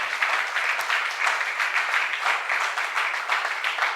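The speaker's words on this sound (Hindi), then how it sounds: "जोरदार तालियां प्रभु यीशु मसीह के लिए" A church congregation at a Hindi service applauds loudly, steady close rapid clapping that continues without a break throughout.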